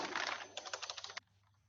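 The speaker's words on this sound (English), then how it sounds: "And then I type my letter." Close, rapid clatter of keys as a letter is typed on a computer keyboard, a dense burst of strokes followed by a few separate taps before stopping abruptly.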